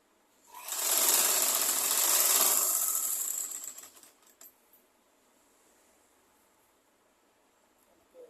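A sewing machine stitches two pieces of cloth together for a skirt in a single fast, buzzing run of about three seconds, fairly close, before it stops and quiet follows.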